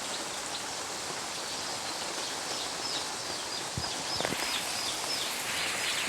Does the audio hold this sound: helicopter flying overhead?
no